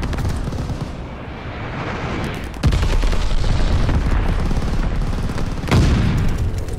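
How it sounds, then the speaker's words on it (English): Bombing run in Call of Duty: Vanguard, rolling booms and blasts over continuous gunfire, with two heavy explosive impacts standing out, loud and close, under a constant wash of battle noise. "Teammate called a bombing run."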